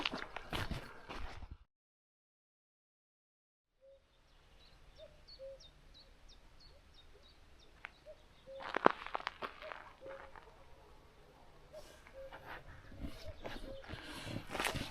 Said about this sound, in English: sounds like we've been followed by a cuckoo for the last 2 miles